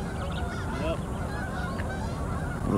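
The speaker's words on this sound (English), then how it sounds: "Check out the geese." Geese honk in flight overhead at the end of summer, a faint scattered chorus of calls drifting over a steady outdoor background with no talking.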